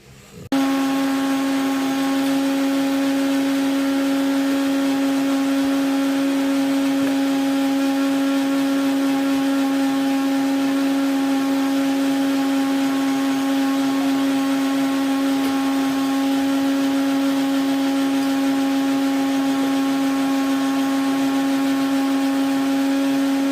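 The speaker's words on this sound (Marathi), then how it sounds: "आणि मिक्सरला फिरवून घ्या।" A kitchen mixer grinder blends raw mango, roasted cumin powder and a little water for panha, switching on with a sharp start and then running as a steady loud motor whine with a constant hum.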